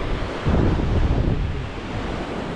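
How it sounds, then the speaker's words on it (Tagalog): A strong northeast monsoon wind roars across the microphone as surf breaks steadily on the shore. The rumble is loud and continuous, with no voices. "Ang lakas ng hangin na amihan."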